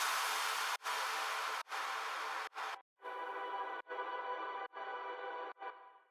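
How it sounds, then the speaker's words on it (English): Exhaust sound effect layered with a short sweep and impacts for an electronic riddim drop: a bright hissing burst cut into rhythmic chunks by sharp gaps, quieter airy bursts following, all without voices. "I just added an exhaust sound from Kashmir and Atmos and just a short"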